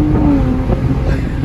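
A 500WHP Toyota Supra engine revs hard, its rising pitch sweeping upward in a loud, close burst with no voices over it.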